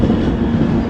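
A Rajdhani Express rolls steadily along the tracks near Kazipet, a continuous low rumble heard from inside the train, no voices.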